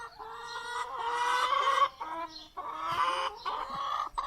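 Several hens and a cockerel cluck and chatter continuously at close range, with short bursts of squawking overlapping each other, no talking.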